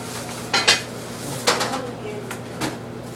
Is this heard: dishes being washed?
yes